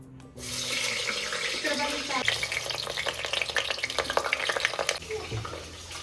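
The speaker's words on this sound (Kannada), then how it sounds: "ಕಟ್ ಮಾಡಿರೋ ಬದನೆಕಾಯಿ ಹಾಕಿ ಎಣ್ಣೆಯಲ್ಲಿ ಫ್ರೈ ಮಾಡಬೇಕು" Cut brinjal frying in hot oil and ghee, a dense close sizzle that swells after the pieces go in, with stirring clatter.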